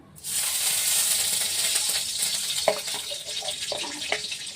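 Ghee heating in a kadai for chicken korma, giving a steady, close hiss and sizzle throughout with a few faint clinks partway through.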